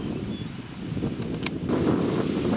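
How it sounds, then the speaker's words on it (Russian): Wind buffets a microphone in low, rumbling gusts that swell louder toward the end, with faint rustling in the background, while fishing for crucian carp. "поднялся ветер, сносит поплавки вообще"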